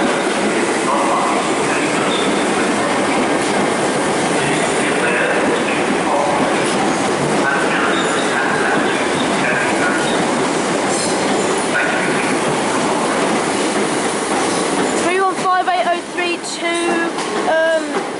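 Class 315 electric train 315803 pulling out of platform 2 at London Liverpool Street, a loud steady rolling rumble with rail clatter and wheel noise filling the station, easing into sharper clicks and squeals near the end.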